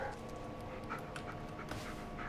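A dog pants softly and steadily in the horror video game Blair Witch, the quick breaths faint against a constant low background hum.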